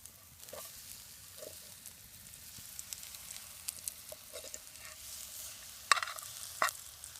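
Cheese bannock frying in oil in a pan over an outdoor fire, giving a soft, steady sizzle with scattered faint pops and a couple of sharper crackles near the end, no voices.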